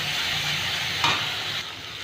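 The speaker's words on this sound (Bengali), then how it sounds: "জিরে ফোড়ন দিয়ে টমেটো কুচি, লঙ্কা চিড়ে দিয়েছি, আর ধনে গুঁড়ো, জিরে গুঁড়ো, গোলমরিচ গুঁড়ো, সমস্ত মশলাগুলো দিয়ে কষে নিচ্ছি।" Chopped tomato, slit chilli and ground coriander, cumin and pepper sizzle steadily in a pan, with one sharp scrape of a spoon partway through, close and clear.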